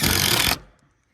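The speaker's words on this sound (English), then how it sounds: "I don't own the fancy screw gun for these, so I just use my regular drill" A regular cordless drill drives a screw into a wooden shed floor, a loud half-second whir that stops abruptly and trails into quiet.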